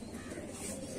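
Paired pet pigeons kept by a fancier in Daraganj, Prayagraj, cooing softly in a steady low murmur, faint and continuous with no talk.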